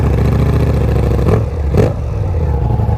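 A 2023 Ducati Diavel V4 motorcycle engine idles loud and close on a cold start, a steady rumbling drone with two brief throttle blips mid-way.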